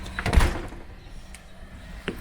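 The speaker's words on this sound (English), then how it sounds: "go back for one more quick look and then shut the door again to make sure it latches" A door is pushed shut with a dull thump and a latch clicking into place, followed by a faint later click over quiet background.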